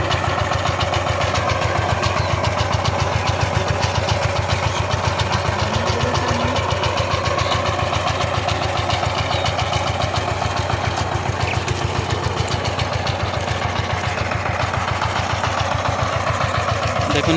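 A power tiller pulls a ladder harrow across a village field, its engine chugging close by in a steady, rapid, even beat.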